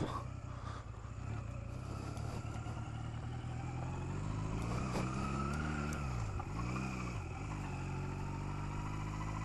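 A motor vehicle that had sat unused for about a month idles, then its engine revs and rises in pitch as the clutch engages and it pulls away, steady and close throughout.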